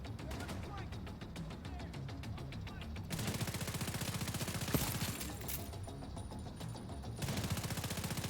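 Rapid bursts of automatic gunfire and heavy mortar impacts in The Division 2, a dense, continuous volley with a sharp blast near the middle, loud and sustained over game ambience.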